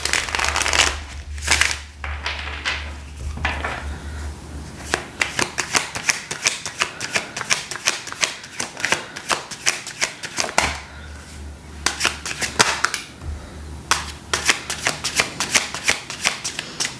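An oracle card deck being shuffled close up: rapid riffling flutters and soft card slaps repeating in bursts, a brief pause midway, then more quick shuffling, fairly loud with a low hum beneath and no talking.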